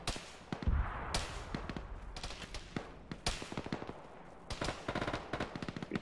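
Bursts of BTR machine gun fire crackle through a military video game battle, rapid volleys repeating at mid distance with short pauses between strings of shots.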